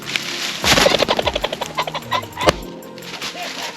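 Shotgun fire during a pheasant hunt on Long Island, New York. One sharp loud report rings out in open air over a rattling, fluttering sound that could be flushed birds, and a voice is briefly audible.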